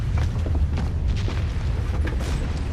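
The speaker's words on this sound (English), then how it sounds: "That is cannon." Distant French artillery fire rolls as a continuous low rumble of deep booms, steady and heavy throughout, with no speech over it.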